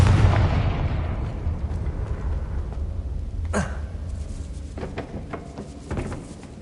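A Confringo blasting spell erupts in Hogwarts Legacy, opening with a loud booming blast that decays into a long rumbling tail, followed by a sharp whooshing crack and scattered smaller pops.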